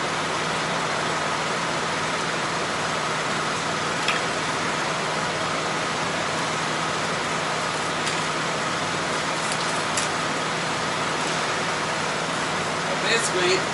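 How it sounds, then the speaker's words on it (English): Trucks running close by in a busy yard, a steady dense rumble of engines and traffic noise holding level throughout with no pauses. "I got trucks running all around me."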